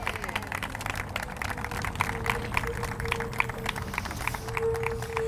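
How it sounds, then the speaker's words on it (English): A big round of audience applause for students at a high school STEM celebration ceremony, steady dense clapping sustained throughout in an indoor hall, with a faint tone underneath. "let's give our students a big round of applause"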